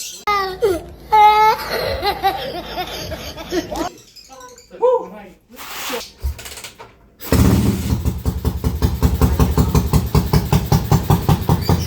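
A TMX155 motorcycle with a 210cc conversion engine and 32mm carburetor starts up and runs with a loud, rapid, rough idle close by after several seconds of excited talk and laughter.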